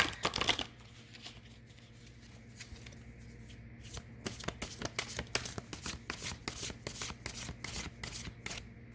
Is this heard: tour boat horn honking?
no